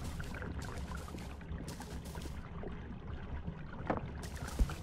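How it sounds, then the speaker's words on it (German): Continuous soft flow and trickle of water in the video game Hello Neighbor, fairly quiet and steady, with faint splashes and a small knock near the end. "So, man hört jetzt hier überall Wasser,"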